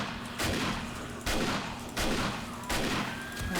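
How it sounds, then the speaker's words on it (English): Auto shotgun fire in the video game 7 Days to Die, four loud, evenly spaced blasts in quick succession, each with a short tail. "I am liking the auto shotgun."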